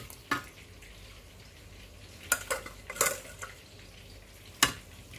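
A spoon stirs an Arabic-style rice and fish dish with potatoes in a pot, giving a few scattered metallic scrapes and clinks over a faint background, close by and with no talk.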